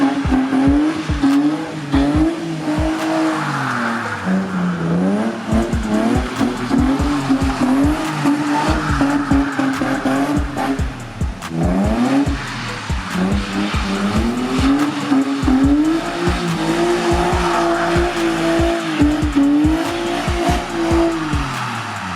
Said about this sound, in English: drifting in the rain with the wife watching